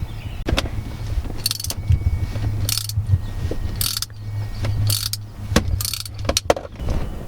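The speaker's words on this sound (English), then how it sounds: "the next thing we're going to do is remove the bolts on the old handle" Someone works a ratchet on 10mm bolts holding the old shifter handle of a 1999-2004 Mustang GT, making bursts of quick metallic clicking separated by pauses, over a low steady hum, close up, with no talking.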